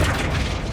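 A Flipendo spell is cast in the video game Hogwarts Legacy, a short dense magical boom with a rumbling low end that sustains through the whole brief moment without fading.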